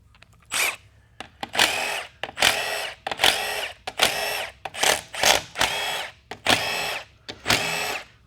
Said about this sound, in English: with the Milwaukee gun because I have to keep the trigger on to spin the bolt all the way out